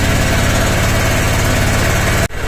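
A Honda Click 125 V3 scooter engine idles close up to warm up, a loud, steady, rapid pulsing putter that cuts off abruptly near the end.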